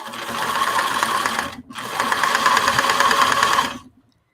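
Sewing machine stitching a fabric owl, a steady mechanical whir with fast ratcheting needle clatter, close and loud, briefly stopping for a moment before running again and then cutting off.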